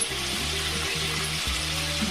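Onions and tomatoes fry in a pan for a Telugu-style fish curry, a steady hissing sizzle with a low rhythmic humming pulse underneath, continuous and fairly close.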